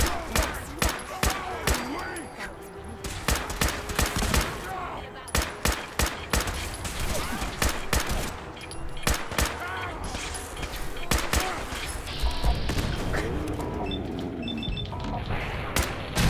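Rapid bursts of video-game gunfire in Fallout 4 during a fight with super mutants, loud, dense volleys of shots repeating throughout, with a voice speaking over parts of it.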